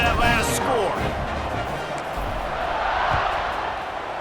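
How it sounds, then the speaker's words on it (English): Crowd noise in a football video game stadium after a touchdown, NC State versus West Virginia, a dense, steady buzzing roar with occasional whoops and a brief sweeping tone early, continuing evenly throughout. "this crowd is buzzing after that last score"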